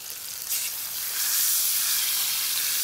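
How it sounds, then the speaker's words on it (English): Fish sautéing in hot oil for a Creole-style seafood platter, a soft sizzle that grows to a louder, steady hiss partway through, heard close with no speech over it. "So you just want to be really careful when you place the fish in the hot oil."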